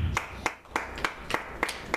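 An audience clapping slowly and sparsely, roughly seven separate sharp claps in an uneven rhythm, fairly close and moderately loud, with no voices.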